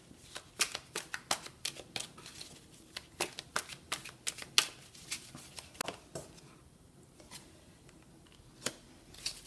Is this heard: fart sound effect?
no